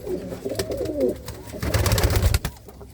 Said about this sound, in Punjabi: ਡੱਬਾ ਕਿੱਡਾ ਤਗੜਾ ਕਬੂਤਰ ਆ